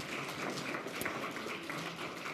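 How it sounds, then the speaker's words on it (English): A congregation applauds at a Salvation Army church service in Ingle Farm, steady dense clapping throughout, fairly distant and soft, with no voices over it. "Give him a round of applause."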